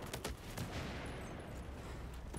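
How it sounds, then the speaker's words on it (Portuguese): Battlefield 4 gunfire in a PC match with heavy explosions, a dense continuous barrage of shots and blasts at steady loudness with no voices. "Eu acho que eu errei o tiro."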